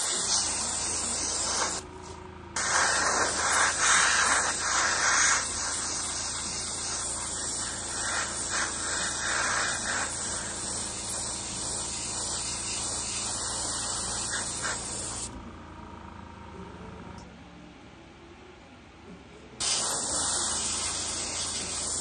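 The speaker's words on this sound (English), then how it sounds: "The reason why I chose airbrush as the painting medium is because I wanted a nice uniform coat" Airbrush spraying paint onto concrete and hypertufa, a steady close hiss that runs in long bursts with short pauses between them.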